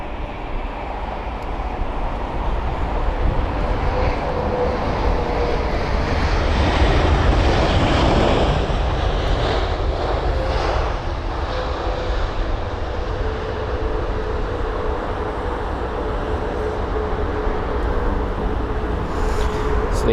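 An Airbus A330 airliner lands at London Heathrow, its engines giving a loud, broad roar that swells toward the middle and then settles into a sustained rumble, heard from a distance with no voices.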